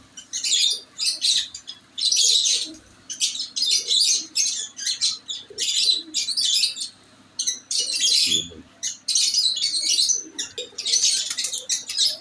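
Pigeons on a rooftop flutter and stir in repeated close bursts of wingbeats and rustling, with soft cooing and chirps between the bursts.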